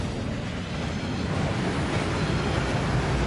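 A waterfall inside the Gringotts vaults in Hogwarts Legacy roars as a steady, loud, broadband rush of falling water, unbroken and with no voices.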